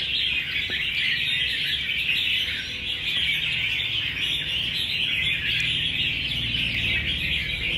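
Rapid, high-pitched chirping from a wild-caught songbird carries on steadily throughout, with a faint low rumble beneath and no voices.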